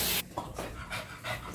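A French Bulldog pants hard right after a bath, rapid close breathy huffs in an uneven rhythm, loud and alone with no talking.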